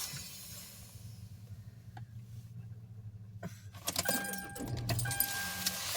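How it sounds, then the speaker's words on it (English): Car keys jangle close by in a quiet interior, and then the engine of a parked car in a large lot cranks and turns over, the cabin hum rising as it comes on, with no voices. "Hang on, I gotta turn the car on."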